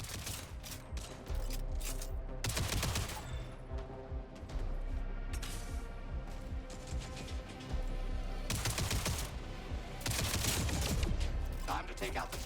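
Sustained gunfire from the science-fiction video game Jump Ship: loud bursts of rapid shots come in waves, pausing briefly between volleys, with a steady rumbling battle backdrop underneath.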